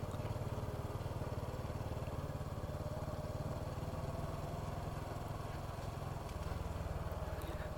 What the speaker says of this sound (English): Beautiful little motorbike ride through here